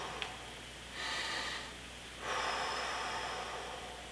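Slow breathing during a stretching exercise, two long airy breaths a few seconds apart, in through the nose and out through the mouth, close and quiet, after a short sniff at the start.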